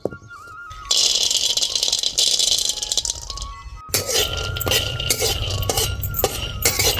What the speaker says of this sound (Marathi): कढई ठेवून भाजून घेते पटक्यात शेंगदाणे